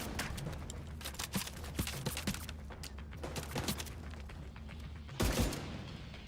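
Gunfire from Tom Clancy's The Division 2 in a smoggy battlefield rattles in sharp repeated shots and bursts, some near and loud, with a heavier blast near the end.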